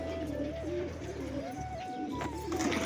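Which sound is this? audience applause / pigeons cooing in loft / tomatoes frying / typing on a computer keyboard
pigeons cooing in loft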